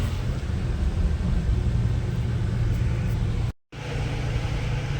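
A car's engine rumbles steadily from inside the moving vehicle, a loud, low droning hum with road noise, broken by a brief complete dropout before resuming at the same level.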